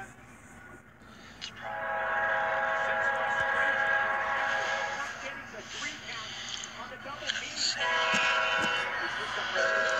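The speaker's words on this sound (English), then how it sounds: "it's a one engine CSX hotshot train" A one-engine CSX intermodal freight train heading east with a distributed power unit rolls past a grade crossing, its horn sounding in long sustained blasts over a loud, steady rumble of passing cars.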